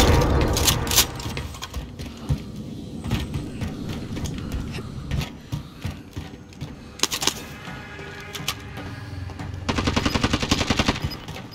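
Rapid bursts of automatic gunfire and single shots crackle through a Call of Duty-style multiplayer match at night, sharp reports clustering near the start, around seven seconds and in a steady rattling volley near the end.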